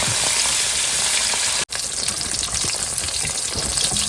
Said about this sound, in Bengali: মাছ ভাজা হয়ে গেছে নামানি